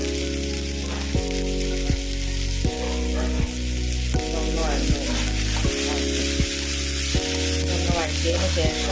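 Tomato and chopped coriander leaves sauté in a pan with a loud, continuous sizzle, and regular clicks and scrapes from stirring sound every second or so.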